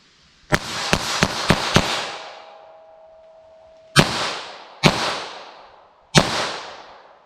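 CCI Uppercut .22 LR rounds are fired from a snub-nosed revolver: five sharp, loud cracks in quick succession, then three more spaced shots, each with a short ringing echo tail and no talking.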